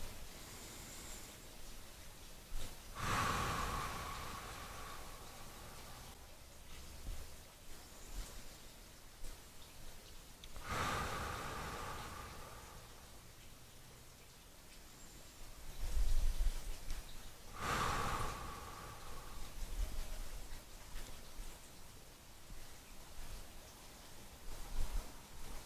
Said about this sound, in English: taking big yummy breaths